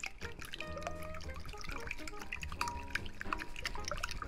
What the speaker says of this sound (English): So in this bowl here, I have 4 eggs, which I'm just going to whisk up.